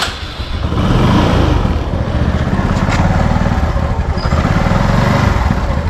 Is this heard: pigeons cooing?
no